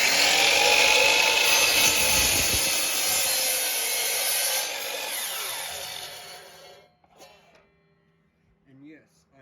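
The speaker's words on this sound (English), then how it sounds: "we are going to saw this out" A power saw cuts through laminated exotic wood, a loud continuous whining buzz for several seconds before it winds down and stops, followed by faint handling noises.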